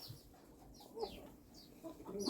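A hen clucking softly in short repeated bursts after laying an egg, fairly close overhead, over faint background noise.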